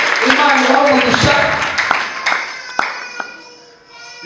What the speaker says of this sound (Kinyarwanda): Reka tuyikomere amashyi tuyishime